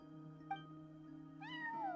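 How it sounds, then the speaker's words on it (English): A cat in the Genshin Impact video game gives a short mew, then a longer rising-and-falling meow over a steady low background hum, with no talking. "That's a cat."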